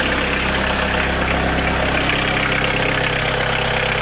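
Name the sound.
1.7 TD diesel car engine idling after starting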